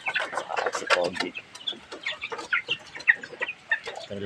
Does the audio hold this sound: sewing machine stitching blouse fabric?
no